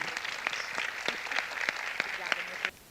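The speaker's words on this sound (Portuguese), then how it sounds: "gostaria de recebê-la com uma salva de palmas" Audience applause welcoming a speaker at a lecture, sparse individual claps ringing out over a soft wash of clapping, ending abruptly.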